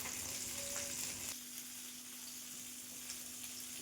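Soft, steady sizzling of pabda fish frying in hot oil, quiet and continuous, with a faint electrical hum beneath and a small clink partway through.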